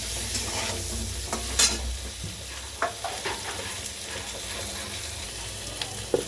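Turmeric powder and salt stirred into a pan of frying tangra fish curry, with a soft continuous sizzle and occasional scraping taps of the spoon against the pan, no talking.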